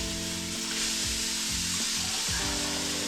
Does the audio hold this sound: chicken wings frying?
yes